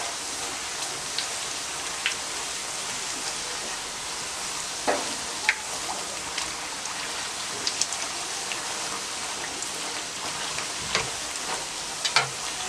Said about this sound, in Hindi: बस चंद सेकंड में पूरी फ्राई हो जाती है।